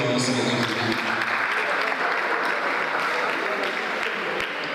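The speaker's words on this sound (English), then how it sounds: "let's put our hands together for them." Dense applause from a conference audience, many hands clapping together in a continuous loud wash that holds steady throughout with only slight fluctuations.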